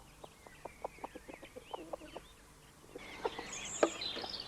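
Chickens cluck in a permaculture coop, a run of short, separate clucks at a steady pace, then busier, overlapping calls over a hissy background toward the end.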